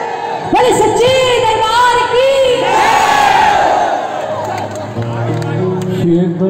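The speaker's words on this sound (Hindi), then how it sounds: "आइए फिर बुलंद आवाज में जयकारा लगाना है" A large crowd at a Navratri jagaran religious gathering in Alwar shouts a loud jaikara chant in unison, rising and swelling as one sustained roar of many voices, with cheering and a lone voice carrying on near the end.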